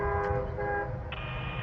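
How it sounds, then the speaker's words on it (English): A CSX freight train's horn blares steadily from near range as the train approaches. A sustained multi-tone chord holds for the whole short stretch and shifts pitch slightly near the end. "Got another train on the way."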